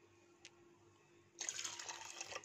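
Boiling hot water poured from a cup onto rice in a pot, a faint room hush that suddenly gives way to a bright splashing pour for the last second, with no talking.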